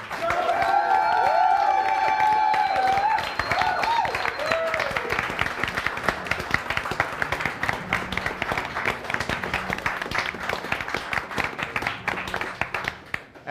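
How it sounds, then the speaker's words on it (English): Enthusiastic audience applause and clapping at a live game show event, sustained and steady, with some overlapping tonal sounds and voices early on before the clapping carries alone and tapers. "a round of enthusiastic applause"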